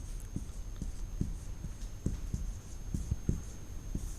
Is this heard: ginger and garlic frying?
no